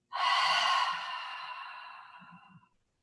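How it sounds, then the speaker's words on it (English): A long, loud breathy exhale during slow vinyasa yoga breathing, starting strong and tapering off over about two and a half seconds, heard close and alone. "Strong inhale. Loud exhale."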